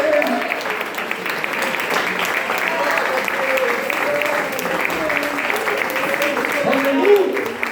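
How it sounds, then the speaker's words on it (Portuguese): Congregation clapping during a church family worship service, a loud, sustained burst of applause with a preacher's voice carrying over the top throughout. "salva de palmas para o Deus Todo-Poderoso"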